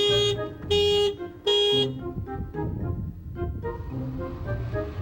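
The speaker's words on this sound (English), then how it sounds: "Locked keys in the car cost me 38 buckaroos. And the alarm worked." A car alarm blares in loud, repeated horn-like blasts that give way to a cycling electronic tone, close and alone with no talk.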